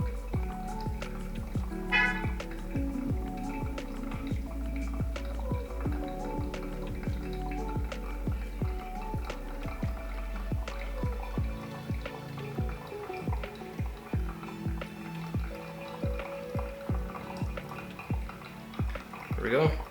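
Coffee drips steadily through a Hario V60 pour-over cone into the vessel below, a dense run of small close taps and splashes, with a brief pouring stream early on and faint room noise under it.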